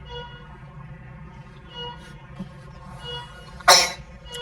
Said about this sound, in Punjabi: ਮਾਸਟਰ ਜੀ ਨੂੰ ਛਿੱਕ ਆ ਗਈ